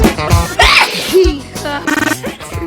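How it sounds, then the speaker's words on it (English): A man's loud, explosive sneeze bursts out close to the mic, followed by sniffling and vocal noises. "Why do men sneeze so loud?"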